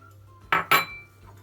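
Whole eggs, three of them, tipped into a bowl of flour and fat for chocolate şekerpare dough, giving two quick clinking knocks close by, then quiet.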